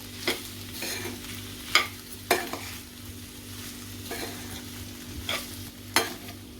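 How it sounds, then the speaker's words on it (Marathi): Salt is stirred into boiled potatoes frying in a pan: a steady sizzle broken by repeated sharp scraping strokes of a spoon against the pan, close and clear. "आता मीठ घालते मिक्स करते"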